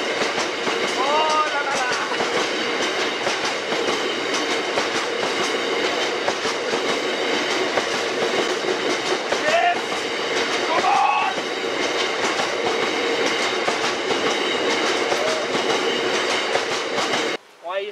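A train passes steadily for most of the clip, a loud continuous rumble with rail clatter and faint wheel squeals, ending abruptly.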